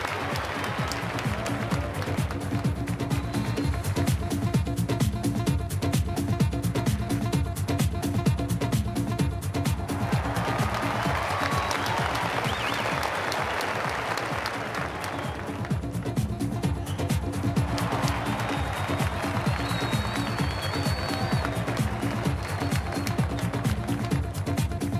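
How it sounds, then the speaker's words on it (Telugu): Long, sustained crowd applause at a Telugu cinema 75th-anniversary celebration honoring three great actresses, dense clapping that swells and dips slightly midway, continuing steadily for the whole stretch with faint voices beneath. "చప్పట్లు ఆపాల్సిన అవసరం లేదు"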